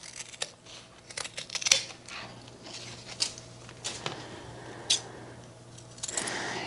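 Scissors cutting through denim from old jeans while making an upcycled tote bag, a few sharp snips spread across the clip against a quiet room background, fairly close.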